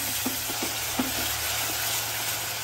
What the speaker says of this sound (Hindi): तेल गर्म हो चुका है, प्याज डाल दें। हाई फ्लेम पे गोल्डन यानी सुनहरा रंग आने तक फ्राई करिए।